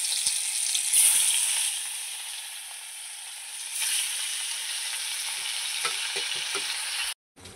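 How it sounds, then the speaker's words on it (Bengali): Katla fish sizzling in hot oil in a home kitchen, a loud steady frying hiss with brief stirring noises, ending abruptly. "মাছটা আমি ভেজে নেব।"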